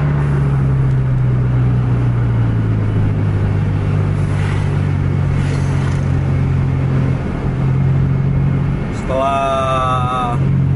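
A Scania truck engine drones loud and steady at high speed while chasing a Volvo on an open road, a constant low rumble with a brief higher whine near the end.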